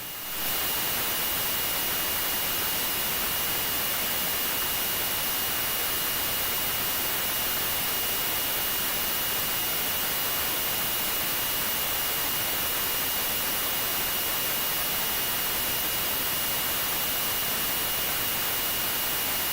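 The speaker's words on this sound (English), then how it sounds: "I think having the engine sound in the background is better than having nothing" A jet engine in an F-117A Nighthawk flight simulator game gives off a steady, unbroken broadband roar with a faint high whine, constant in level throughout and with no other sounds.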